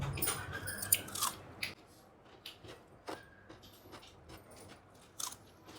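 Someone chews idli with mutton paya close to the mic, giving irregular wet crunchy bites and smacks, louder at the start and then quieter, with no talking.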